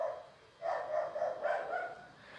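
Dog barking at home, a quick run of several sharp barks close by after a quiet start, fading back down toward the end.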